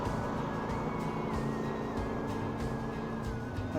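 A Chevrolet Camaro drives along a street in Ball Ground, Georgia, its engine a steady, fairly distant rumble under a wash of street noise.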